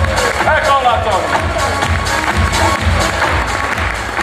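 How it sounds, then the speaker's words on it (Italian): At a food, music and expo event in Winterthur, a crowd applauds and stirs with chatter for the impresario Tony, with loud, dense clapping and a voice heard briefly at the start. "Un altro applauso all'impresario che mi ha portato qui, il mio agente per l'estero, Tony!"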